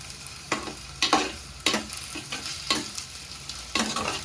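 Ginger garlic paste sautéing in a pan over medium flame, a steady sizzle punctuated by five or six distinct stirring scrapes at roughly even intervals, close and moderately loud, no voices.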